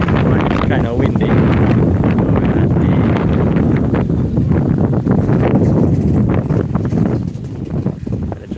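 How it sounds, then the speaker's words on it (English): Steady wind buffets the microphone at an outdoor classic car club meet in Mandeville, Jamaica, a loud continuous rumbling roar that partly masks a voice talking. "kind of windy."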